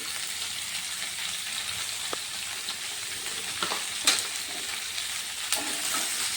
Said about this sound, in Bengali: এখন আমি কিছু আলু কপি ভেজে নেব। প্রথমে একটু নুন আর হলুদ দিয়ে দিচ্ছি।